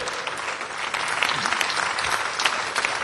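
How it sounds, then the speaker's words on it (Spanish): A church congregation applauds at a Spanish-language worship service, steady dense clapping filling the whole stretch at moderate loudness, with no voice clearly over it. "Aplaudan la gloria de nuestro Dios Todopoderoso."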